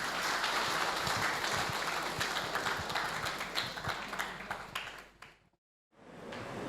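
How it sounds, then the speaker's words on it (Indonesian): Audience applause after a public lecture on exorcism and healing prayers, dense clapping from a hall crowd that fades out near the end, followed by a brief silence and a return of room sound. "berikan tepukan kepada Father Charles"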